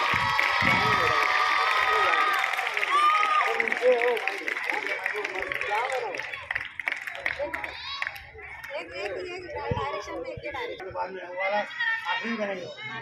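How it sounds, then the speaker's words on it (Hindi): Schoolchildren and audience at a sports week opening ceremony in an Urdu school in Dhule clap and cheer in a busy, rolling mix, with someone speaking on a loudspeaker over the crowd noise. "अब तालियां बजेंगी जोरदार।"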